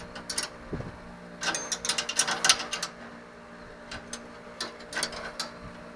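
Pinion yoke of a Quick Performance 9-inch gearset spun by hand, giving a soft mechanical whir with light ratcheting clicks that rise in bursts in the middle of the stretch, close by and fairly quiet.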